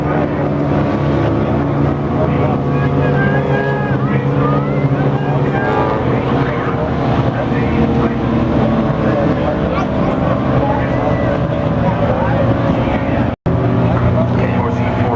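Race cars roar through a heat race at Fulton Speedway, a dense, loud, continuous engine drone filling the whole stretch with a brief sharp click near the end, while voices talk underneath.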